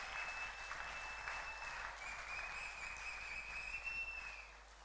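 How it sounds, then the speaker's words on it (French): A church congregation at a Sunday service applauds and cheers, with sustained dense clapping and a long piercing whistle over it, loud and continuous. "Tu peux encore acclamer pour le Seigneur ce matin"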